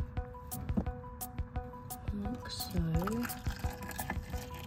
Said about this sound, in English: I'm actually gonna pour her in this capsule.